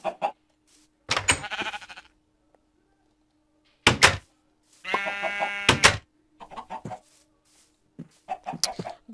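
Minecraft sheep bleat in short, wavering bursts between clicks and blocky game sounds, fairly close and clear with gaps of silence between them.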